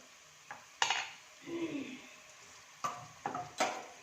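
Ginger garlic paste being stirred in a pan, with a few clinks and scrapes of a spoon against metal and a soft sizzle in between, close and sparse, with no talking.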